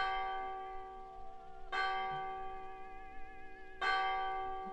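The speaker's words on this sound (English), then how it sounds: "The bell." Church bell tolls twice, evenly spaced, in the horror video game Martha is Dead, each strike ringing out with long sustained resonance over a quiet hum.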